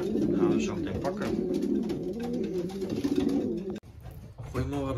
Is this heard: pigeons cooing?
yes